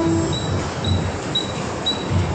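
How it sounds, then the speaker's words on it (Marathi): Inside a slow-moving passenger train, a steady low rumble and hiss of the carriage with faint rhythmic thumps and a thin high whine, even and continuous, with no voices. "आम्ही ट्रेनमध्ये आणि आज खूप ट्रेन खाली आहे."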